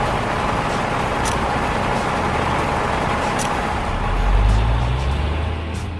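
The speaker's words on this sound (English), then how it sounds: "The revolving drum combines cement, sand and water to form concrete." A concrete mixer truck's revolving drum in a kids' construction app, a steady mechanical churning rumble with a low engine swell toward the end.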